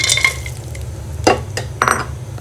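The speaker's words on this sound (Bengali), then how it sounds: "তারপর নেড়ে চেড়ে একটু ভেজে নিব বাদামগুলো" Nuts stirred and fried in melted ghee in a pan, with a utensil scraping and clinking against the metal in a few distinct strokes over a soft background sizzle.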